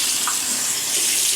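Tap water runs steadily from a faucet into a sink, a close, continuous gushing hiss that fills the whole moment while the face is wetted for shaving with a Palmolive stick.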